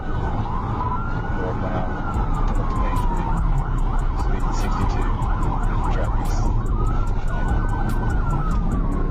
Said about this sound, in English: Trooper Ledden flipped on his lights and sirens, joining the chase as the Ram sped past.